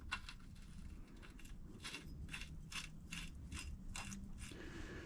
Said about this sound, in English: we'll put a wrench on here, and snug her down